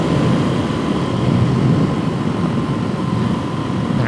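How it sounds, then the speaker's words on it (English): A Suzuki DRZ400SM motorcycle fitted with an FMF Powerbomb exhaust runs at a steady, close-up idle, with a low, even drone holding throughout and no talk. "There's good old FMF with the power bomb."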